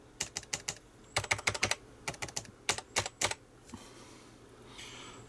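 Fingers type on the keyboard of an Amstrad NC100 portable computer: crisp, close key clicks in quick bursts and short runs separated by brief pauses, with no talking.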